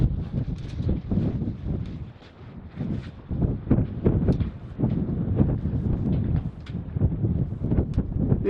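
Strong wind buffets the microphone at an outdoor rifle range, giving loud, uneven low rumbling gusts with no pause throughout.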